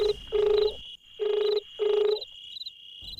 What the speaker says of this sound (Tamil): ஃபுல் ரிங் ஆகி கட் ஆயிடுச்சு.